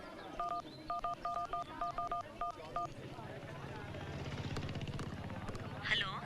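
A phone is dialed in a Hindi comedy film scene: a rapid series of short, evenly spaced keypad tones, followed by a low engine-like drone and background noise.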